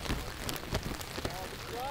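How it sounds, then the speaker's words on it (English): Rain from a passing tropical storm pattering on a surface at an outdoor field game, a dense broadband patter with scattered sharper drops and faint tonal sounds near the end. "It's like one of those tropical storms that just sweep in."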